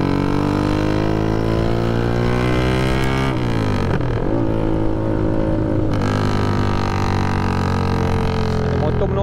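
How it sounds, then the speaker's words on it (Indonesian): A 125cc motorcycle engine revs hard on a highway between Klang and Assam Jawa, its harmonic drone climbing in pitch, dropping back around the gear changes and rising again, loud and close throughout. "So aku pulas supaya korang nampak je macam mana kelajuan motor ni,"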